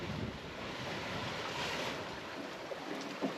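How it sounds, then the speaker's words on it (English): Calm sea washes steadily past a sailboat under a steady 12-knot wind, a continuous broad rush of water and wind noise with no breaks. "And we have nice calm seas out here. Steady wind. Blowing about 12 knots."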